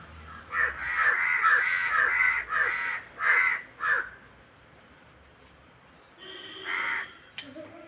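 Several crows caw in a run of loud, close calls during the first half during a squabble with cats over chicken, then a quieter stretch and one more harsh call near the end.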